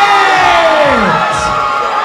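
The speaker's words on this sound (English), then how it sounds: "And a round of applause for Rita Gabrito, ladies and gentlemen." A large crowd at a Muay Thai event cheers loudly, voices whooping and rising together in a sustained roar.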